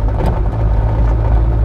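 A 1963 Alfa Romeo Giulia 1600 Spider on the move, its engine a steady, low drone heard from inside the car with road and wind rumble beneath, loud and unbroken throughout.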